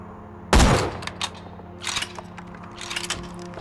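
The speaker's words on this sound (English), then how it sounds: "Yay, I like how I can sniper rifle." A sniper rifle fires a sharp, loud shot in the video game Borderlands 2, followed by trailing crackles, impacts and clatter of in-game combat.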